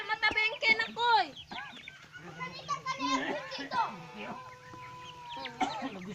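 Hens cluck and squawk close by as children chase a chicken amid excited voices and chatter, with sharp bursts of clucking throughout.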